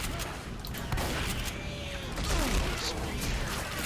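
Rapid gunfire with explosive frag rounds in Left 4 Dead 2, a steady dense clatter of shots and bursts with a louder boom-like swell near the end, under faint background game noise.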